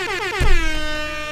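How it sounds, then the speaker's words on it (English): A single loud air horn sound effect played through a live stream setup, one sustained brassy blast with a sharp onset that holds briefly and rings out. "air horn,"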